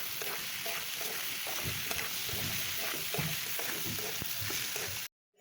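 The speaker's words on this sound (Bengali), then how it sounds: "সবজিগুলো দিয়ে খুব সুন্দর করে নেড়ে চেড়ে ভেজে নেব" Steamed vegetables stir-fried in a pan for a homemade noodles and pasta dish sizzle steadily. A spatula scrapes and stirs through the crackle at close range, then the sound cuts off abruptly at the end.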